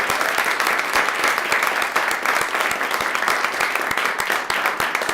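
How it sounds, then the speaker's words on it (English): Sustained applause from a crowd at a Poetry Out Loud event, dense steady clapping throughout with no pauses. "Can we give them a round of applause, please?"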